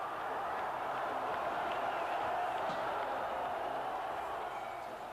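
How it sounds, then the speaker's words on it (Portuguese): Guarani football fans celebrate the club's return to Brazil's top division after invading the pitch, a steady, dense crowd roar that fills the whole stretch at an even level, with no distinct individual voices standing out. "a torcida invadiu o campo para comemorar a volta do Bugre à primeira divisão do Campeonato Brasileiro"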